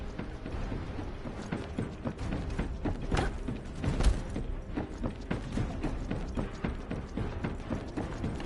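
Gun magazines being swapped during a reload in The First Descendant, heard as steady mechanical clicks and ratcheting clacks over a busy game mix, without speech.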